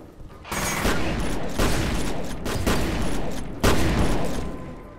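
Loud, close shotgun blasts in the video game F.E.A.R., several heavy booming shots fired in a quick irregular sequence with mechanical pump clatter between them, over continuous game noise.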